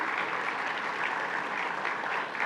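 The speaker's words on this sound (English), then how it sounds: "let's give them all a big round of applause" Steady, dense applause from an audience at a tech and business expo, sustained and even throughout with no voices standing out.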